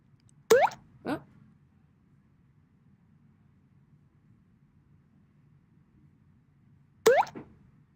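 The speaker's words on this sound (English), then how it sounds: "So the ball now bounces off the paddle." A Pong video game plays short synthetic blips as the ball bounces off the paddle: two quick tones close together, a long silence, then two more near the end over a faint background hum.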